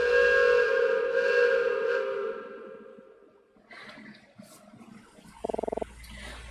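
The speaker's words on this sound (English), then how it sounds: "I knew train whistles were loud, but that was completely deafening." A very loud train whistle in a video game blasts with a strong sustained tone that slowly fades out, followed by low rumbling and a short burst of rapid mechanical clatter.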